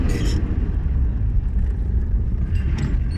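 A manual car's engine drones in a steady low rumble while shifting up to second gear after joining the road, heard from inside the cabin with no clear break or rev change.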